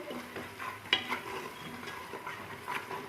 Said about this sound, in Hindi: सूखा धनिया डालेंगे इसमें 1 चम्मच, और इसको अच्छी तरह से हम मिक्स करेंगे।